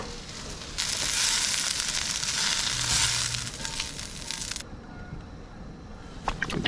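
Liquid egg poured into a hot pan at a campsite, a strong sizzle that bursts up suddenly, holds for a few seconds, then fades to quieter crackling with a couple of sharp clicks near the end.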